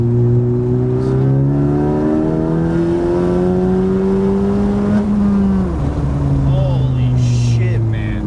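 A 2018 Honda Civic Si accelerating hard, its engine note climbing steadily in pitch and loudness through the gears, heard close from inside the car without any talk.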